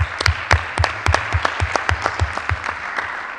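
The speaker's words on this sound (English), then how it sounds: "So I would like to ask you for an applause to these people that makes this conference possible." Conference audience applauding at the opening of ICSOC 2017, sharp claps landing in a steady, fairly even rhythm, close and loud, with no talk over them.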